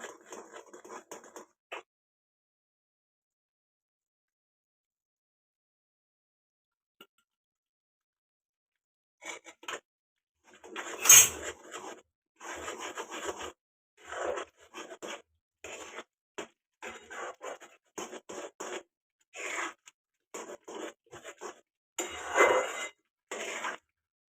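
Gram flour (besan) stirred and scraped in a pan over a very low gas flame: dry, gritty scraping strokes in short irregular bursts, close and fairly quiet, after a near-silent pause.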